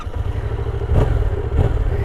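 A 2019 Yamaha XSR700 motorcycle engine rumbles close and loud, with a deep throbbing idle and two brief revs standing out over the steady thrum.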